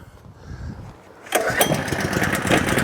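An Allett Kensington 17H lawn mower's petrol engine fires up on a single pull with the choke on, then settles into a loud, close, steady running rattle.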